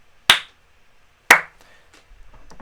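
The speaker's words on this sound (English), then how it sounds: "But if I clap, you see it flash." Two sharp, close single hand claps about a second apart during a Pure Data onset detection demonstration, each loud and crisp with a short decay, followed by faint low background noise.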